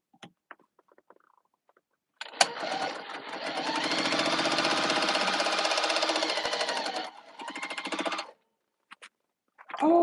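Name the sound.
sewing machine stitching quilt pieces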